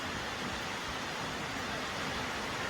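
Heavy rain pours down as a steady, dense, unbroken hiss, even and continuous throughout, with no voices.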